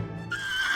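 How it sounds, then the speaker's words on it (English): A horse gives a brief, shrill neigh, a short rising whinny that is clear but fairly quiet and heard alone. "And then there's the neighing."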